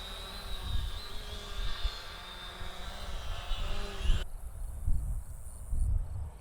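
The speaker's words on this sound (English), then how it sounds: "It's a bit of a floaty drone." Syma X500 foldable GPS camera drone flying outdoors in wind, giving a faint, steady whirring hum that shifts tone abruptly partway through.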